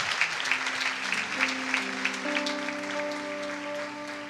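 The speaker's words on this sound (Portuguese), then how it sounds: "Celebra o Senhor com suas palmas." A church congregation claps along during worship, a dense steady wash of hand claps with sustained music tones rising beneath and growing through the stretch.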